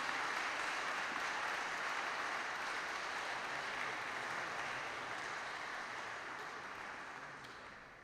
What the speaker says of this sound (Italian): E accompagniamoli sempre con un bellissimo applauso